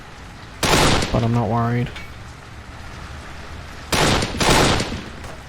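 Machine gun fire in the video game Kane and Lynch 2 comes as sharp, dense bursts, one near the start and another near the end. Someone talks briefly between the bursts.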